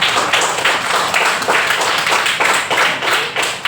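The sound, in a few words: class clapping hands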